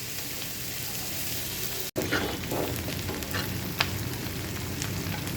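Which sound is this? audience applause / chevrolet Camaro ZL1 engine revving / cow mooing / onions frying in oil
onions frying in oil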